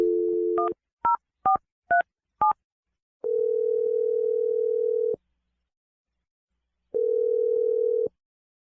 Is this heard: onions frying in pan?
no